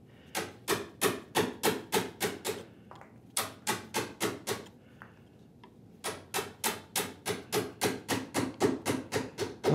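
A quarter-width chisel pares wood while a saw handle is shaped, in three runs of quick, even rhythmic strokes with short pauses between them, close and fairly crisp.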